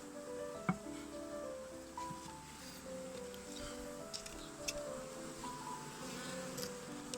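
Honeybees hum steadily in a soft, droning buzz, with faint clicks and light handling noises scattered throughout, as bees are shaken from frames into a hive while introducing a Buckfast queen to a Carpathian colony.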